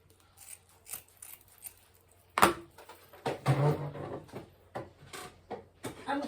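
Scissors snipping through deco mesh while finishing an autumn farmhouse pumpkin wreath, a series of close, sharp crunching cuts with scattered handling rustles between them.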